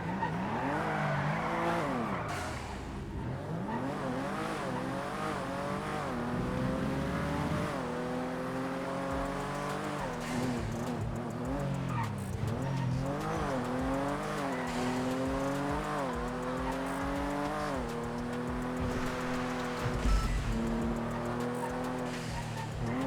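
Car chase driving in the video game GTA, with engine tones rising and falling through gear shifts and tire squeals, loud and continuous with a crash-like bump near the end.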